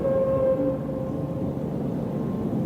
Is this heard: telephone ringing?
no